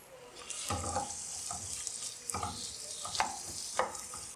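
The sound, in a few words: chopped onions frying in oil until golden brown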